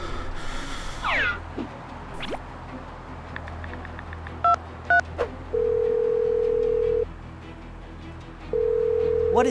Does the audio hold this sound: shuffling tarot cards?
no